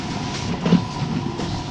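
An ÖBB Nightjet night train rolls on its rails with a steady, close rumble and faint wheel clatter, with no voices.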